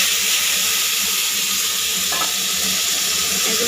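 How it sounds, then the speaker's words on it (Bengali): Potato pieces fry in oil left over from frying fish, a steady close hiss and sizzle running without a break and no voices. "এগুলো হালকা একটু ভেজে নেব।"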